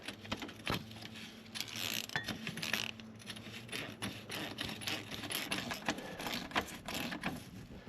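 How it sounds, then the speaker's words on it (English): A hand ratchet tightening the transfer case drain plug on a 1997 Jeep, giving a steady run of fast metallic clicking strokes, close and continuous under faint background hum, with no speech. "So now just grab your ratchet. Let's get this on."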